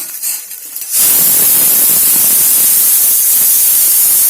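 Oil hits batter in a hot pan and bursts into a loud, steady sizzle that starts abruptly after a brief quieter moment and hisses on without letup.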